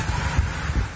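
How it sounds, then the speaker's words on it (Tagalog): Strong Super Typhoon Nando wind with rain in Calayan, Cagayan roars continuously and loudly, buffeting the microphone with low rumbling gusts over a dense hiss for a brief moment. "Tila nagsasayawan din ang mga puno dahil sa lakas ng hangin at ulan."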